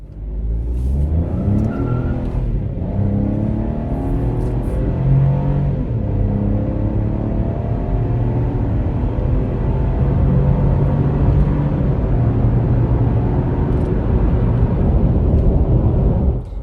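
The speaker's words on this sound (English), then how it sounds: "I'm going to hit the gas, and we'll get to listen to this 3-cylinder engine again" A 2025 Chevy Trax's three-cylinder engine pulls hard under acceleration, heard from inside as a loud, steady drone whose pitch climbs and drops with gear changes across the whole stretch.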